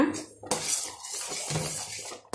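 A spoon clinks and scrapes against a pot while semolina pongal is stirred, with a few sharp close metallic knocks and rattles and no speech.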